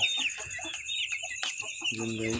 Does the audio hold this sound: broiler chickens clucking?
yes